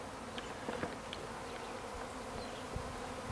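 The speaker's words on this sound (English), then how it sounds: "This is a bee swarming." A honeybee swarm clusters under an apple tree, a continuous soft buzzing drone with individual bees passing close now and then, faint and steady with no voices.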